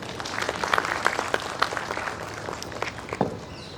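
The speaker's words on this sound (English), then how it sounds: "Let's have a round of applause for them." Audience applause at a university Republic Day celebration, a steady wash of many hands clapping with scattered louder claps, continuing for several seconds without talk.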